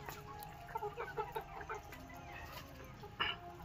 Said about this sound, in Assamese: এইটো চাওক সিল্কি, ইমান ধুনীয়া কোমল নোম সিল্কিবিলাক